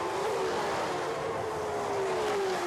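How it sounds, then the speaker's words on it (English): Superleague Formula race car engines on a warm-up lap at a racetrack, a steady loud drone with a slowly falling pitch as the cars pass, continuous throughout with no talk. "These are some of the loudest engines you'll ever hear on a racetrack."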